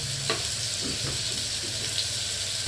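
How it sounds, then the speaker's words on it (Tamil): Onions sautéing with rock salt in a pan over a high flame make a constant dense hiss of frying, with a couple of faint stirring clicks, close and steady and with no speech. "ஹை ஃப்ளேமில் வச்சு வெங்காயத்தை நல்லா வதக்கணும்."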